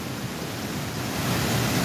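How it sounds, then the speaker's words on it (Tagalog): Storm-surge waves pound the shoreline at Nato Port in Sagñay, Camarines Sur, a steady loud roar of surf with wind buffeting the microphone, building slightly in strength toward the end. "sa lakas ng alon nitong storm surge"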